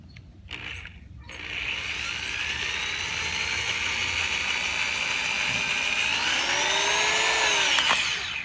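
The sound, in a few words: drilling a through hole in a toy gun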